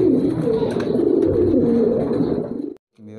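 Pigeons at a Bangladeshi bird market coo in a steady low, throaty burble, close and continuous, breaking off abruptly near the end before resuming briefly.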